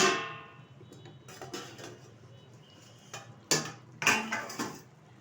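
Metal pot lid lifted off a cooking pot of egg omelette curry, with a clear ringing clang early on, then softer scrapes and several sharp metallic knocks close by.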